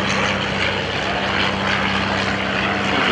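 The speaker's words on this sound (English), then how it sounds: "That red Fairchild passing down in front of you." A red Fairchild PT-13 or PT-17 primary trainer, a 1940 biplane flying at a World War II airshow, drones past with a loud, steady propeller-engine roar that holds close and constant throughout, with no voices.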